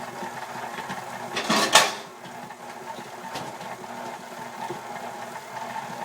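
A food processor blends mint, onion and meat for kofta with a steady, moderately quiet motor whir. The whir briefly surges louder near the start, then settles into an even hum.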